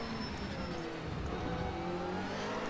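A SportsCar Lites race car engine in Project Cars 2, steady whirring drone that rises slightly as it climbs through the revs, heard alone at a low, even level.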